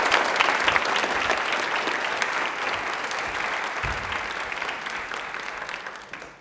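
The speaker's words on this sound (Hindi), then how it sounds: "आस्था के लिए एक बार तालियां जोरदार प्लीज" Studio audience on a Rajasthani quiz show giving a participant strong sustained applause, a steady wash of many hands clapping with a faint voice underneath, tapering off at the end.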